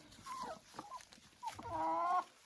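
Hens clucking and making soft calls while pecking at crumbled food, a few close, moderately quiet vocalizations in short bursts with a longer warbling call near the end.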